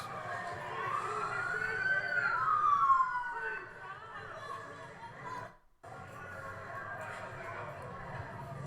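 A police siren wails through a busy street scene, its rising and falling tone running loud in the first seconds before easing under steady traffic and crowd noise.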